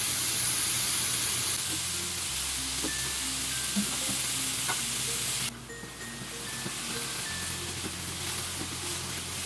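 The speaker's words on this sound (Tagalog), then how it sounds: "I-sear muna natin yung ating beef bago natin lutuin yung kanyang sauce." Beef sears over high heat in a hot pan, a loud continuous sizzle and hiss with scattered crackles that drops somewhat in level partway through, no voices.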